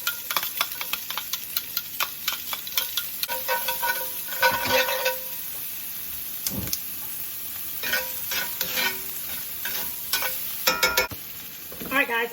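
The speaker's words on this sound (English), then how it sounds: "I'm going to go back in with some more olive oil, some chopped onions" Chopped onions frying in olive oil in a pan for cauliflower rice, a steady soft sizzle broken by repeated scraping stirs and clinks of a utensil, close up.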